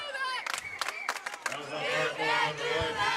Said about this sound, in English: We are behind the McLoud student section. As you can hear them, they brought a great crowd, didn't they?